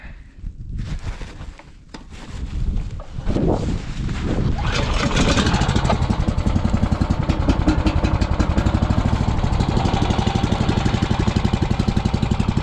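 An engine idles and warms up outdoors in a Siberian winter during an ice-fishing trip, first some handling noises and a rough start, then a loud, steady, rapid mechanical chugging that holds up close.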